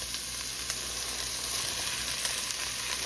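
Finely chopped vegetables sizzle steadily in hot bacon grease, a constant close frying hiss with faint crackles and no voices.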